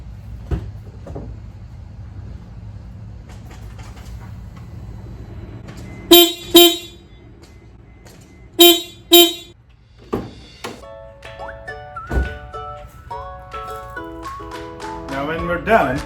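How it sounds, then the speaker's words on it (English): The stock horn of a Mercedes Sprinter van honks in two pairs of short, loud toots, each pair a quick double beep, separated by a pause, followed by faint engine and background clatter. "let me show you how it sounds when you honk the original stock horn"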